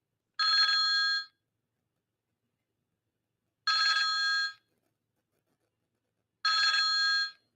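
A telephone rings in three separate, evenly spaced bursts, each lasting just under a second and followed by a long pause, loud and close with no talking.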